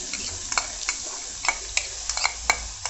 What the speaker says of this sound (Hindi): चॉप्ड अनियंस डाल देंगे इसमें।